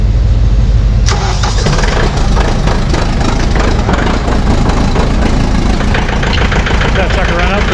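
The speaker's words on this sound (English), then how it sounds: "See if this tractor starts up." A tractor used for plowing snow cranks and catches about a second in, then settles into a loud, rough, knocking idle up close, with a voice briefly audible under the engine.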